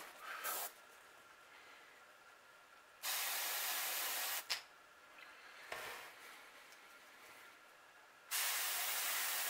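Airbrush with a detail brush spraying paint onto a crankbait fishing lure, short steady hissing bursts of air starting and stopping, close and fairly quiet, with pauses of faint background between sprays.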